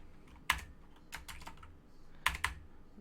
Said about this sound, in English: wow, I am all sorts of messed up in typing today.